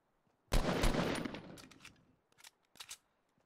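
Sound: gunfire in the video game Fortnite

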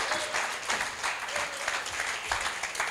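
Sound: congregation clapping hands in praise

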